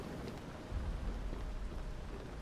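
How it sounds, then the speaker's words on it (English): Thunder rolling through a stormy level of the video game Shadow Warrior, a low steady rumble under rain-like hiss, swelling louder about midway and holding there for a couple of seconds. "Fucking lightning, dude."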